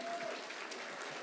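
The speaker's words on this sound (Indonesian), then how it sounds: "Beri tepuk tangan buat yang baru." An indoor seminar audience applauds first-time attendees in a brief, dense burst of clapping from a crowd.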